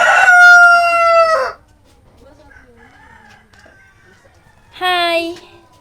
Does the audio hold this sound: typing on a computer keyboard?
no